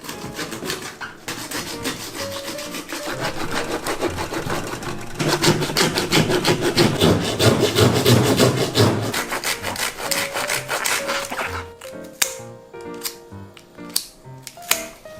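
Rasping strokes of a saw cutting through kue (longtooth grouper) bone, dense and close for most of the stretch, then slowing into a few separate sharp scrapes and knocks at the end.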